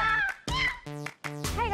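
A voice imitates a cat, mewing in four drawn-out meows with rising and falling pitch, close and fairly loud with short pauses between them.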